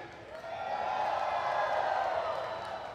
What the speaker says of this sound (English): Oh, this crowd giving a hand to Lana.